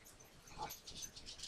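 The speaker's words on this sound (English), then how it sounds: "what the hell are you barking at, dude?" A dog barks faintly in the background of an indoor room, a few soft, distant yips and whimpers with no talk over them.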